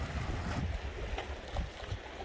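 Gentle waves lap at a small beachfront inside a harbor breakwater, a soft irregular wash of water that rises and falls under steady wind noise.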